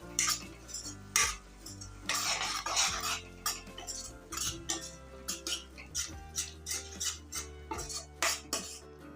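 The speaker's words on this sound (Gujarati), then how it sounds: "હવે બધો મસાલો આપણે મિક્સ કરી લઈશું" A spoon scrapes and clinks against a pan while stirring masala into fried eggplant, with irregular metallic taps that settle into a quick regular rhythm of scrapes toward the end, close and fairly quiet, no talking.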